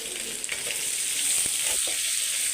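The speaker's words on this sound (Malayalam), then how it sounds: "വെളുത്തുള്ളി ഇഞ്ചി മൂക്കുമ്പോൾ സവാള ഇടുകയാണ്." Sliced onion goes into hot oil with ginger-garlic paste and fries in a pan, producing a bright, steady close sizzle with a few soft stirring knocks and scrapes, with no voices.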